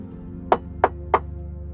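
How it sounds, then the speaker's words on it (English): Three sharp, evenly spaced knocks on a door sound loud and close over a low steady background hum during a tabletop role-playing game session. "It's not very long before you hear a knock at the door."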